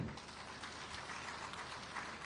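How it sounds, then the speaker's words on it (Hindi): Audience applause at a Chhattisgarh government welcome ceremony, a steady dense patter of many hands clapping throughout, moderately distant and fairly faint, with no voices over it. "तालियां बजती रहे।"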